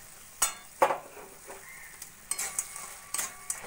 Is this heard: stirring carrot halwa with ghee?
yes